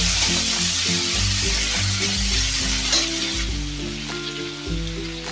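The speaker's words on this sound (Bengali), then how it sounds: "হালকা করে আমি ভেজে নেবো" Chopped stuffing fries lightly in a pan with a continuous soft sizzle, backed by a steady tonal hum, and no one talks.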